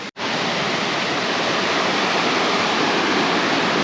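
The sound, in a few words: rushing water overflowing onto a hiking trail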